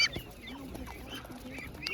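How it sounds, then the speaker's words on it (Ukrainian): Ducks and geese honk and quack faintly at an outdoor poultry market, a few short calls scattered through a brief stretch of background noise. "Ось така качка."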